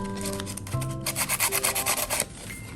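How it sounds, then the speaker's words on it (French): Sandpaper rubbing back and forth over a lacquered wooden Virgin Mary figure to prep it for paint, a rapid rhythmic rasping of about a dozen close strokes, loud and steady, with no talk over it. "Donc c'est parti, on ponce."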